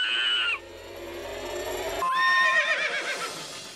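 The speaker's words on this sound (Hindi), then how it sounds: "मयूरी वो लंगूर नहीं है, घोड़ा है" A horse neighs in a loud, close whinny with a quavering high pitch, then a second rising whinny follows after a short break, with no talk over it.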